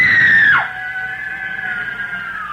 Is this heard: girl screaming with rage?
yes